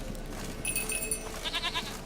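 A goat bleats in the video game The Witcher 3: one short, nasal bleat over a low steady game-ambience hum, followed by a fainter wavering call.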